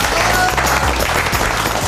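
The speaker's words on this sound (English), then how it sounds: "Give him a clap." People at a kitchen cook-off clap for the winner, a brief loud burst of close applause.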